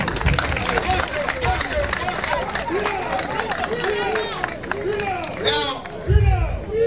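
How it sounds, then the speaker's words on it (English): A crowd claps and cheers for a politician at an outdoor rally in Nima, Accra, a steady mass of clapping mixed with crowd voices and shouts throughout. "Clap for that, clap for that."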